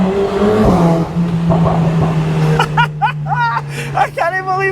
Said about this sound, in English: I cannot believe we are in the F1 tunnel with the A45S